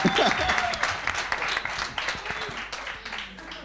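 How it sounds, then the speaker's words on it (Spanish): An audience applauds at a fan event panel with dense, crackling clapping that slowly tapers off over a few seconds. "un aplauso para ese hombre que ha diseñado"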